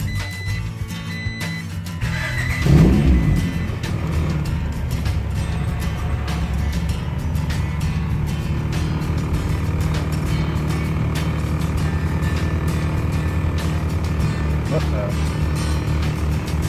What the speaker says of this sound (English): Alright, first start up.